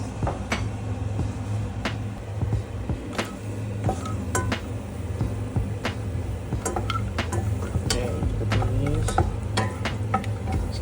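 Cloves, star anise and cinnamon sautéing in a pan, a steady soft sizzle with scattered stirring scrapes and clinks of utensils, close and continuous with no talking.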